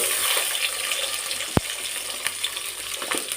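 Carrot and drumstick pieces stirred in a pot of hot oil for sambar, a continuous frying sizzle with soft scraping and one sharp clink of the spoon against the pot partway through.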